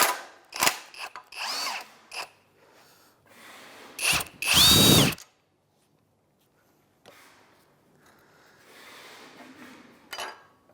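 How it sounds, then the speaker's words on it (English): An impact wrench with a 17mm socket works the strut top nut on a 2011-2016 Hyundai Elantra, giving several short rattling bursts and one longer, louder hammering run, followed by faint clinks of handling. "We'll try and impact that top nut off."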